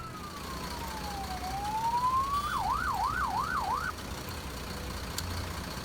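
An ambulance siren in the video game Emergency 4 sounds, a slow wail sliding down and up, then switching to a fast yelp, over a steady background hum.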